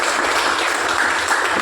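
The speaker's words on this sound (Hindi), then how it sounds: "मैं चाहूंगा आगे जोरदार ताली हो जानी चाहिए।" A brief burst of dense, loud audience applause rings out at a business seminar, steady across its short length.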